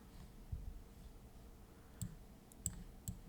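A computer mouse clicks a few times while working in Cricut Design Space software, giving about four faint, sparse, close clicks over a low background hum.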